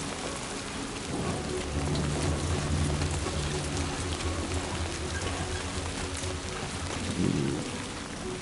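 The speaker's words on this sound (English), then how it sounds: "Did a really good job with the rain on the camera." Steady rain and rolling thunder in the video game Death Stranding 2, a dense, loud downpour hiss filling the whole stretch with low rumbles underneath and a brief louder swell near the end, no voices.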